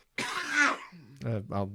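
A single rough cough bursts out up close, followed by a couple of short voiced throat sounds, loud in a quiet room.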